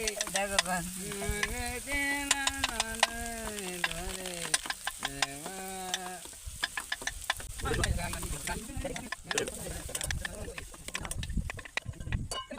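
Chili powder is stirred into pasta sauce frying in a pan at an outdoor field cookout, a crackling sizzle with clicky stirring strokes, partly under a singing voice early on.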